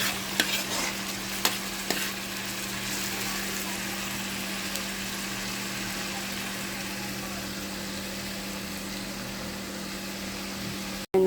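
Garlic sautés in a hot pan with a steady, even sizzle and occasional stirring clicks, a constant frying hiss lasting until an abrupt cut at the end.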